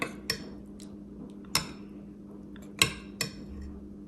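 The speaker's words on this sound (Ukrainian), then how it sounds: "Зараз перемішаю усе." A spoon stirring borscht in a metal pot knocks against the sides in four or five separate clinks spaced irregularly over a low steady hum, quiet and close, with no talk.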